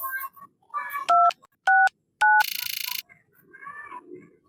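A telephone being dialed: three loud, evenly spaced two-tone keypad beeps, then a burst of bright electronic ringing, with muffled talk before and after.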